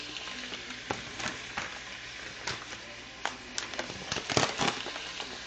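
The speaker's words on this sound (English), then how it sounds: "We're going to fry up our pancetta" Pancetta fries in olive oil in a pan with a steady, fairly quiet sizzle and crackle. Occasional louder pops and stirring scrapes sit on top, with no talking.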